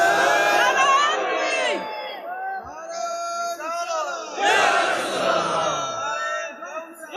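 A large congregation at a Bangla religious sermon gathering shouts the takbir together, loud massed voices rising in repeated waves of chanting close up, with no quiet gaps across the clip.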